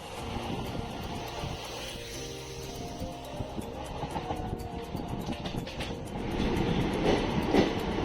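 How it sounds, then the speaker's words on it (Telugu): Rajkot–Kacheguda weekly special train (09520) pulling out in Gujarat, a steady low rumble and rattle of rolling coaches heard from aboard, growing slightly louder near the end. "దట్స్ 145కి మన ట్రైన్ కూడా స్టార్ట్ అయిపోయింది"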